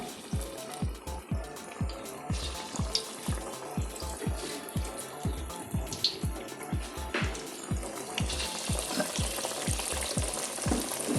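Banana flower vadai fry in hot oil with a constant crackling sizzle, joined by a steady series of soft, regular low thumps, close and moderately quiet.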